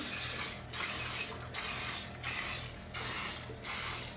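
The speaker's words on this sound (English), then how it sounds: "just go ahead and spray each one" Cooking spray hisses from an aerosol can onto a muffin pan in five short, evenly spaced bursts, close and fairly loud, with quiet pauses between.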